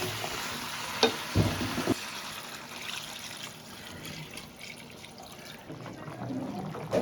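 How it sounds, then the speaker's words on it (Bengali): Mutton curry is stirred in a pan with a few sharp clanks of a utensil near the start, followed by a soft, steady sizzle and faint liquid sounds as water goes into the pan. "একটু নেড়ে এবারে জল দিয়ে দেবো।"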